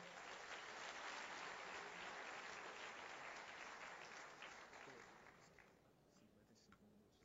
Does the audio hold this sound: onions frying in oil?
no